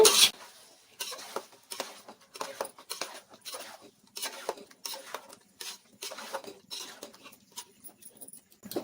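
Marinated chicken being stirred with oil in a pot for biryani, a series of wet scraping and clinking strokes from a spoon against metal, repeated in irregular bursts, close and fairly quiet.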